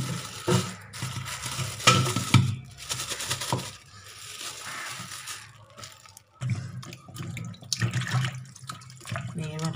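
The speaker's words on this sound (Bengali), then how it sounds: "মেয়ের মাটনটা ধুয়ে নিই" Raw mutton being rinsed in water in a home kitchen, with irregular splashing and sloshing bursts that pause briefly before resuming, close and moderately loud, with faint background kitchen noise.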